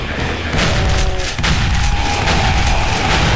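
A shotgun blast from a shotgunner demon in DOOM, a loud booming shot followed by a sharp crack partway through amid dense game noise, with more booming close behind.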